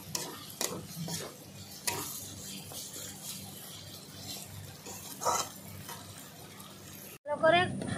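Chopped snails are sautéed with spices in a pan, giving a low sizzle under repeated scraping and stirring strokes of a spoon, ending in a sudden burst of different noise.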